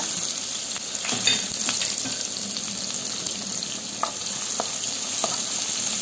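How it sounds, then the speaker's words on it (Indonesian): Sliced shallots and garlic sizzle in hot oil in a pan for Sundanese-style nasi liwet with anchovies and oncom, a steady close frying hiss with occasional stirring clinks and scrapes, no voices. "Bawang merah, bawang putih kita masukkan dulu"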